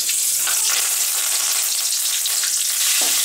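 Broken cinnamon and ground green chilli paste fry in hot oil with a loud, dense, crackling sizzle that holds steady throughout, close up with no voices.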